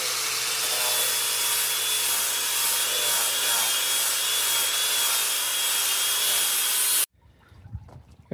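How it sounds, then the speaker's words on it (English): Steady abrasive rubbing of sandpaper by hand against a bushcraft axe head for about seven seconds, then it stops abruptly, leaving quiet handling noises. "and then I'll get sanding."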